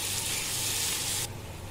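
Potato masala sizzling and frying in a hot pan, a steady loud hiss that cuts off abruptly partway through, leaving a softer background sizzle.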